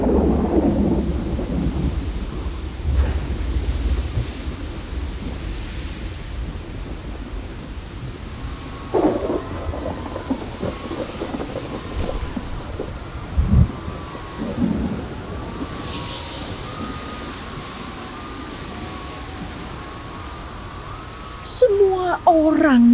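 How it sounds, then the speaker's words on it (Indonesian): A thunderstorm with rain at sea, with low rumbling thunder and a steady wash of rain, punctuated by a few louder bursts and some talking near the end. "Di tengah laut, tiba-tiba badai besar datang."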